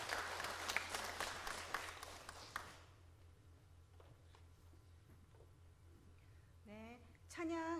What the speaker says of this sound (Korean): 우리 큰 박수로 다시 한번 격려해 주시고